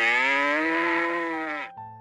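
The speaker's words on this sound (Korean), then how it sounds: "두 암소가 자신의 아가 송아지의 울음소리를 들으며 송아지를 바라보고 울부짖었어요." A cow lets out one long, loud, close moo that holds steady and then fades. A second low call starts just after it, and no voices are heard.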